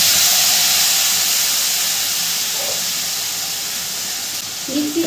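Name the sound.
ground ginger and green chilli paste sizzling in the pan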